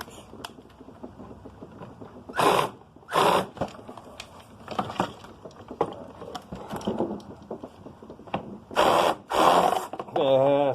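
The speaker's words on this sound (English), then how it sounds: "This is 8mm nut. Got on my screw gun." A screw gun spins off an 8mm nut on a dishwasher being scrapped, with several loud whirring bursts and ratcheting clicks between clatters of metal, and someone talking in between.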